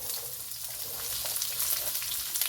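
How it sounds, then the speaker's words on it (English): Onions fry in hot oil, a steady, close sizzle hissing on without a break and with no talk over it. "Oil is hot. I'm going to add in the onions."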